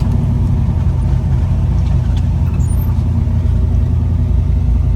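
A 1964 Chevy II Nova SS Sport Coupe driving down the road, its engine a loud, steady, close rumble that holds even throughout with no clear rev peaks and no talk.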